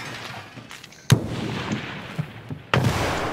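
Mosin rifle gunfire in a shooting video game, two sharp loud shots about a second and a half apart, each with a booming echoing tail over quieter background noise.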